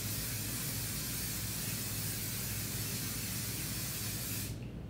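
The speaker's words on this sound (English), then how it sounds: "So let's spray this baby and witness the magic." Makeup setting spray hisses in one long, continuous close burst for several seconds, then cuts off abruptly.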